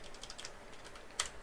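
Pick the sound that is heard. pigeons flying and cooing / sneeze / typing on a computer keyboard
typing on a computer keyboard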